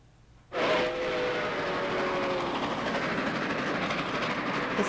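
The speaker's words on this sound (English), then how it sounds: "It was all aboard this past weekend for a steam-powered train trip to Corning." Nickel Plate Road steam locomotive 765, pulling an excursion train, suddenly rumbles in loud and close, its wheels clattering steadily along the rails, with a brief whistle-like tone near the start.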